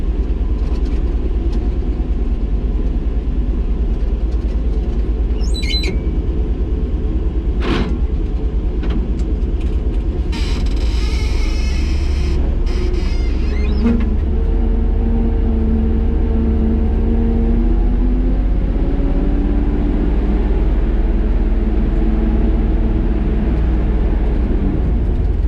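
An old farm truck's engine drones loudly and steadily throughout while the driver floats the gears, the pitch rising and falling with each shift and no talk over it.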